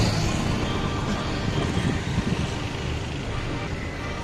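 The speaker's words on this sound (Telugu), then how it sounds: "సిగ్నల్ పడినట్టుంది, ఆగింది బస్సు." City bus halted at a traffic signal on a wide Bangalore road: a low, steady engine and traffic rumble, moderately quiet, with surrounding vehicles idling and passing.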